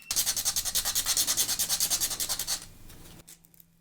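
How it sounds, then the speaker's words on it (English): Rapid, steady back-and-forth rasping of sandpaper on plastic, close up, about two dozen strokes before stopping and leaving faint background hiss. "I am sanding plastic."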